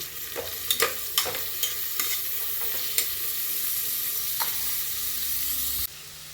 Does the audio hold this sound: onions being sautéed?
yes